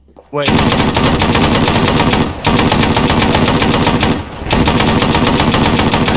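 Loud, continuous automatic gunfire from the military shooter Arma 3 rattles in rapid bursts, broken by two brief pauses, dense and close throughout.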